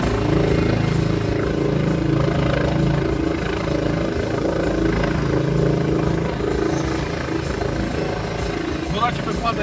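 A helicopter's rotor thrums steadily and loudly throughout, a continuous heavy chopping drone with a constant engine whine above it.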